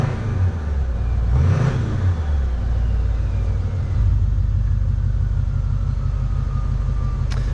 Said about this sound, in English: Let's rev it up and see how it sounds.